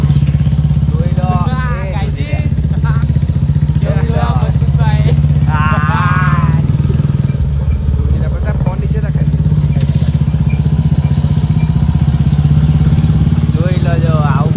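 A Royal Enfield Bullet motorcycle carrying four riders idles and runs with a close, steady low thump throughout, while people talk and call out over it.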